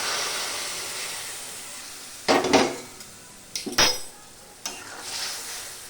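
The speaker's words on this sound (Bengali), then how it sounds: "এবারে আমি সিদ্ধ করে রাখা মানকচু আর বেগুন এর মধ্যে ঢেলে দেবো" Boiled taro root and eggplant are tipped into fried spices in a pan, giving bursts of sizzling and utensil scraping over a quiet steady fry, with a couple of sharp metallic clatters.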